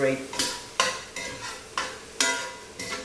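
Carne guisada meat sizzles in a hot pan while being sautéed and seared, with loud bursts of stirring and scraping every half second or so over a steady frying hiss and no talking.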